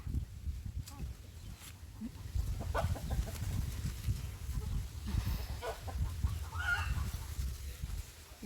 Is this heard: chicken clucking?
yes